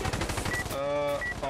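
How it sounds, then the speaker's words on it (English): Light machine guns fire in Insurgency: Sandstorm co-op with the ISMC mod, a dense rapid volley of shots with a ringing echo, loud and close, while a player talks over it. "We have enough light machine guns to constitute a minigun over here"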